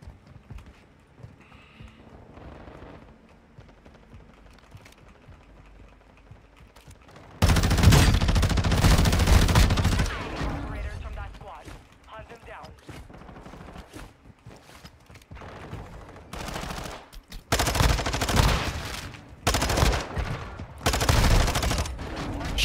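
Bursts of gunfire in a video game shootout against a rival team arrive in loud, dense volleys, with quieter scattered shots and clatter between them and no talking.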